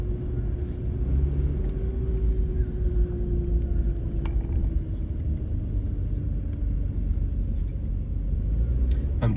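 A car rolls slowly along East 22nd Street in Paterson, a steady low road rumble and engine drone heard from inside the vehicle, continuous and fairly loud with no talking.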